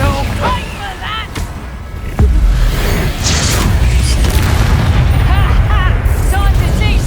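Bombarda blasting spell in the game Hogwarts Legacy: loud explosive booms in the middle of a busy magical duel, with a sharp impact that leaves sustained roaring rumble under other spell effects and voices.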